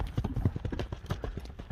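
Hooves of a light, quick horse thudding in a fast clip-clop over muddy ground, close and steady, with faint background noise.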